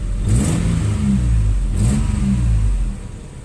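A Nissan 3.3 V6 runs smoothly after a bad injector was replaced, its steady low hum rising through two quick revs close by, with no talking.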